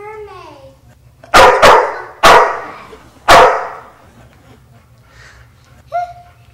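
A pet dog barks three or four loud sharp times in close succession, nearby, followed by a softer yip, with faint whimpering before the barks.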